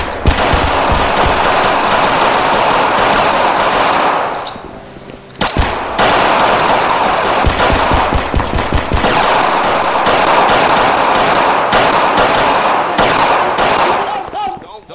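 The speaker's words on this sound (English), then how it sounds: "we're gonna have multiple shots fired across from Domino" Dense bursts of automatic gunfire rattle almost continuously in a loud police shooting incident. The shots break off briefly around the middle and then resume in long rapid volleys.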